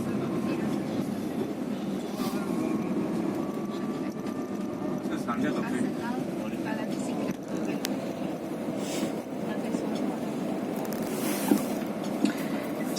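A Paris metro train running, a steady loud rumble and rattle of the carriage with occasional squeals, continuous throughout, with a voice talking over it.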